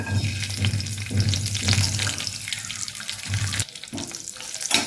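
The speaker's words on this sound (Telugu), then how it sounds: "కొంచెం ఆయిల్ వేసి ఆయిల్ కాస్త వేడిన తర్వాత కొంచెం జీరా" Cumin seeds and cashews frying in hot oil, a steady close sizzle with a faint low hum beneath it and a couple of clinks of a utensil, no talking.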